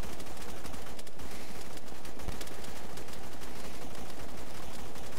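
Gunfire in a video game firefight: a dense, loud, nonstop rattle of shots that fills the whole stretch without a break.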